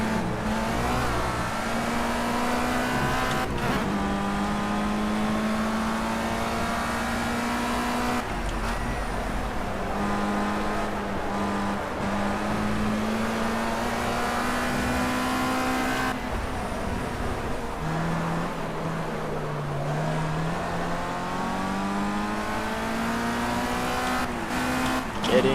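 Formula race car in the Project Cars racing game, its engine droning loudly and continuously, rising in pitch and dropping abruptly at several gear shifts, with occasional brief clunks.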